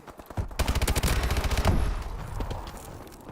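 Rapid automatic gunfire in Call of Duty Advanced Warfare, a loud close burst of evenly spaced shots that fades into a rumbling echo, no voices.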